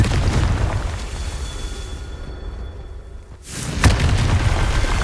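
A Confringo blasting spell detonates in Hogwarts Legacy, a loud rumbling boom that dies into a brief lull before a second sharp blast erupts, both loud and close with no talk.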